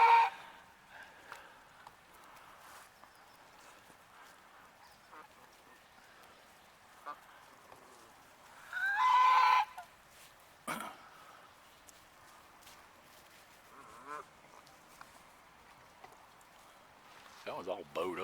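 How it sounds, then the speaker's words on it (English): Canada geese honk in a short loud burst partway through, with a few fainter calls scattered across an otherwise quiet outdoor stretch near a fishing spot. "ain't those Canadian geese?"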